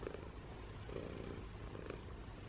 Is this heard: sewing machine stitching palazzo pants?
no